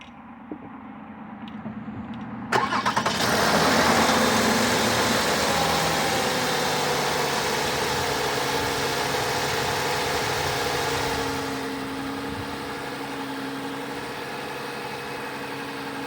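A 2013 Lexus ES350 engine, running Valvoline Restore and Protect 0W-20 oil, cranks and turns over, then settles into a steady, rumbling idle that continues evenly, with the tone dropping slightly near the end.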